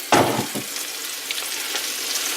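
Onions hit a hot pan with a sharp burst of sizzling, cooking alongside chicken, that settles into a steady, softer crackle, close by and with no talking.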